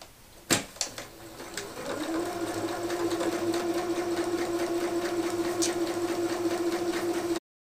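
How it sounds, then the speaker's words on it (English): A sewing machine runs steadily, stitching a straight seam along a card-table tablecloth, with a few clicks before a continuous even hum close by, no talk. "Gonna head back to the machine and stitch from end to end using the 3/8 of an inch seam allowance"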